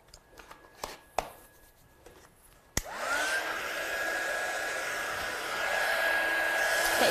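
A heat gun for heat-setting stamping ink switches on with a click after a few soft handling taps and shuffles. It then blows a steady, close whooshing hiss with a faint whine.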